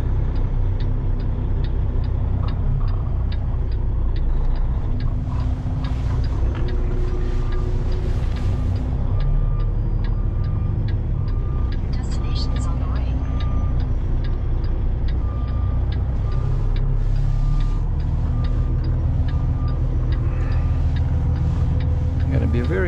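Busy road traffic with many cars moving around, a steady loud rumble of engines and tyres close by, with passing vehicles and faint talk inside a car.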